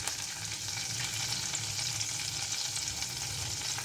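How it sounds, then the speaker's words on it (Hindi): Chopped garlic in about two tablespoons of hot oil in a pan sizzles and fries with a steady, dense hiss, close and continuous with soft stirring underneath and no talking. "ये देखिए चॉप लहसुन डाला है हमने।"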